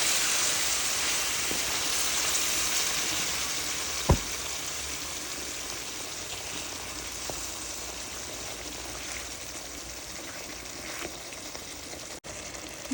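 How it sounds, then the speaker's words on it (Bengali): Hilsa fish sizzling and frying in a pan while being stirred down, a steady close crackling hiss that runs throughout with a few brief louder pops. "মাছগুলো ভালো করে কষিয়ে নেব।"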